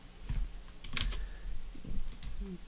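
Computer keyboard keys tapped while editing in 3ds Max, a handful of separate clicks and presses at an uneven pace, close and quiet with no voice.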